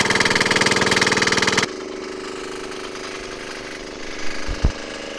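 A small Chinese 168-type single-cylinder diesel engine with a metal intake cold-cranks at 12 F, a loud rapid rhythmic chugging that abruptly drops to a steadier, quieter running rumble, with a couple of thumps near the end.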